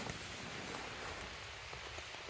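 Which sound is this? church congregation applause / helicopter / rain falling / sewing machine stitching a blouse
rain falling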